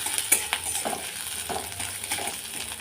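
Radhuni seeds, a bay leaf, grated ginger and a dried red chili fry in oil for moong dal with bitter gourd, a light sizzle broken by scattered clicks of a spoon against the pan.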